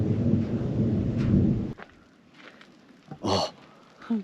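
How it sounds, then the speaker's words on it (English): A thunderstorm rolls past a desert canyon campsite: a heavy low rumble fills the first moments, then fades into quieter outdoor air with scattered rustles and a couple of brief nearby knocks as rain begins. "It's starting to rain. Big fat stinging rain."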